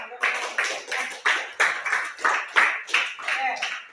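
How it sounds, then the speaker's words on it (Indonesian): A classroom of students claps together in a slow, regular rhythm, about ten loud, distinct bursts evenly spaced, close and clear with no talk over it. "Tepuk tangan untuk kita semua"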